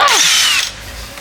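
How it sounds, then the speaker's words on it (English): A power drill boring through the wooden body of a custom Precision Bass whines loudly for about half a second, then cuts off, leaving quiet room noise. "You have to drill straight first, tilt the drill bit, and then use a giant drill bit"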